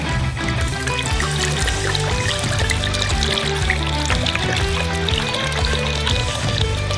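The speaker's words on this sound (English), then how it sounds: "Pour the red wine into a bowl." Red wine poured into a bowl for a chicken marinade, a continuous trickling pour heard close up over a busy musical background.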